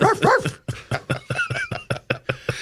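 Dog barking in a quick run of sharp, evenly spaced yaps and bow-wows, loud and close, opening with a couple of drawn-out whining barks before the rhythm settles.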